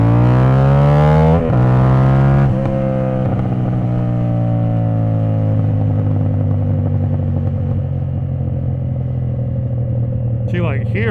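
A 450SS motorcycle engine running rough and bucking at low RPM gives a loud, close, uneven drone whose pitch dips and surges, with a sharp clattering jolt early on and a rattling burst near the end.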